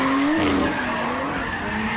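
A drift car skids through a wide-line zone at a drift series event, its tires squealing in a loud sustained screech over a steady engine tone that bends slightly in pitch across the run.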